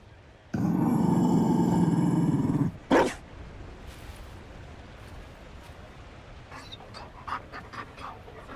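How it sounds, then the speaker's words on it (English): A Mabari war dog in the video game Dragon Age Inquisition pants heavily for about two seconds, close and loud, followed by a short snort and faint scattered game sounds. "You found a dog? They don't breed Mabari in Olay."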